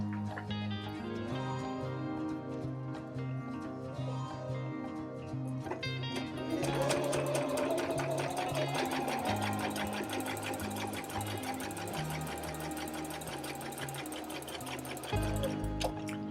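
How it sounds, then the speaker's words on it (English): A sewing machine hums steadily as it stitches a quarter-inch seam around fabric squares, its motor whirring continuously with a brief shift in pace toward the end. "I am simply just going to sew a 1/4 inch seam all the way around the outside of this square"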